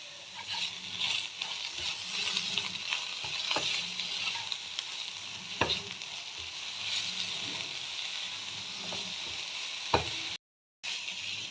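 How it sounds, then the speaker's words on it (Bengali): Brinjal pieces frying in oil with salt in a pan, a steady soft sizzle with occasional sharp clinks of a spatula stirring, no talk. "এবার বেগুনটাও ভেজে নেব।"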